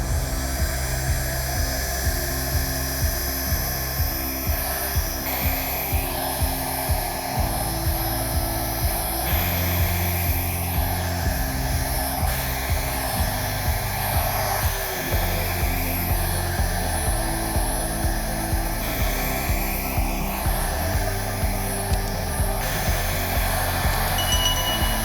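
A hair dryer blows out a space-themed acrylic paint pour, giving a loud, steady airflow whir that runs unbroken for the full length with no talking.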